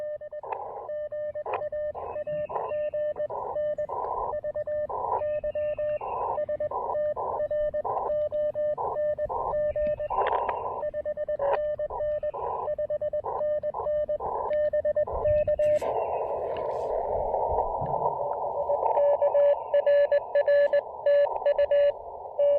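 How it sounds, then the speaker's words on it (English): Morse code from a low-power portable amateur radio station at a state park, a steady tone keyed in dots and dashes, rising and fading in strength, with a burst of static and noisy swells late in the passage. "Great signal. But it's fading all over the place."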